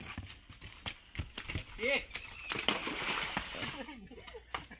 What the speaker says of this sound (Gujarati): ઘોડી જો હાલે.